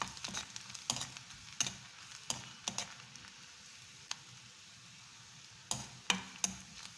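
Golden-brown onions sautéing in a pan, soft background sizzle with clusters of sharp spoon scrapes and taps while being stirred, quiet and close without speech.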